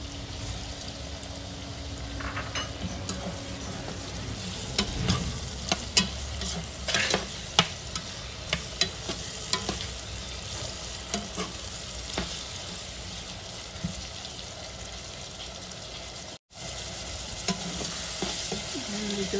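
Tomatoes added to garlic and onion frying in a pan: a continuous close sizzle with stirring scrapes over it, no talking.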